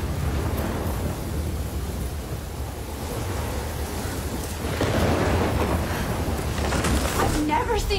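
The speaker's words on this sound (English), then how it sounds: "I've never seen a storm like this in Oregon." Heavy rain pours steadily during a thunderstorm in the video game Life Is Strange, with a low rumble of thunder swelling partway through. The storm noise fills the whole stretch, loud and close.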